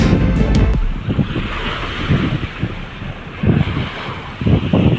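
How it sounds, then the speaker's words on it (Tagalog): Strong wind buffeting the microphone in loud, rumbling gusts on the shore of Manila Bay, with surf washing in the background. "Lakas ng hangin"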